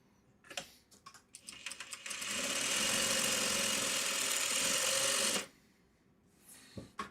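A sewing machine stitching in a steady, close whir for about three seconds, preceded and followed by scattered clicks and handling taps, with no talk over it.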